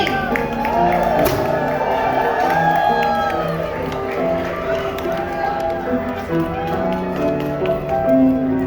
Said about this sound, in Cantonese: 再多啲歡呼聲、掌聲！